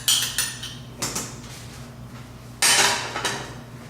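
Spices being stirred into a chunky beef and bean chili in a pot, with a spoon clanking and scraping against the pot in several loud metallic bursts between quieter stirring.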